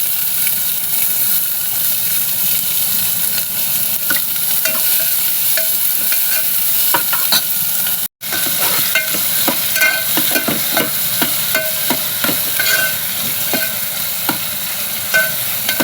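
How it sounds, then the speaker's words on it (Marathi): Chopped onion and garlic frying in a pan for an aloo leaf curry, a dense continuous sizzle with repeated stirring scrapes, close and loud, with one very brief break in the sound. "कांदा लसूण चांगली भाजली"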